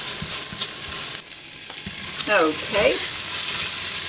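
Garlic fries in a pan, a constant bright sizzle with light stirring noises, while someone speaks briefly.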